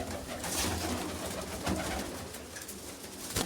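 Pigeons coo softly nearby amid rustling and a low background hum, with a sharp knock near the end.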